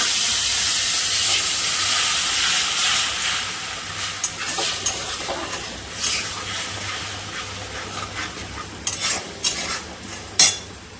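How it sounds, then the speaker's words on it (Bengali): Whole spices for a tempering fry in hot oil in a pan while a utensil stirs them, giving a steady sizzle with clinks and scrapes of metal that grow busier toward the end, close by, with no talking. "ফোড়নটা লাল লাল হয়ে গেছে, ফোড়নটা ভাজা হয়ে গেছে, মশলাটা দিয়ে দেবো।"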